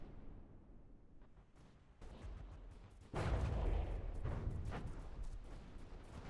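Anti-torpedo defense guns fire at incoming torpedoes in a naval video game, a series of sharp distant booms and rattling bursts that swell into a louder sustained barrage midway, with no talk.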